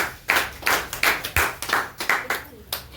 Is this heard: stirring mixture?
no